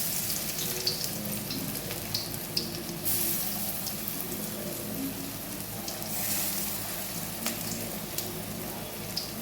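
Flattened red lentil fritters sizzle steadily in hot oil in a pan, a continuous close frying hiss with small pops and crackles and no talking.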